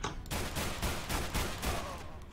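Rapid bursts of gunfire from a modded weapon in a video game, loud repeated shots in quick succession that fill the whole clip.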